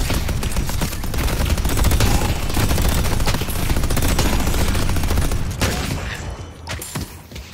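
A turret fires in the video game Deadlock, a loud, dense stream of rapid automatic gunfire that runs for several seconds and then breaks into a few scattered final shots.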